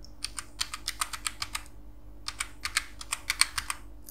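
Keys clatter on a computer keyboard as a mobile number is entered into an online form, about two quick bursts of roughly a dozen crisp, close taps each with a short pause between, no talking.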